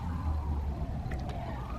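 A 2018 Mercedes E 300 engine runs at a steady idle, a low even rumble heard close up with no revving, with a brief faint higher sound near the end.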